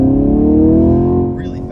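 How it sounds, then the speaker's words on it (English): A 2022 Camaro 2SS 1LE accelerates hard onto a highway, its engine note climbing loudly and smoothly close by before easing off near the end. "We'll step out into this highway on the gas."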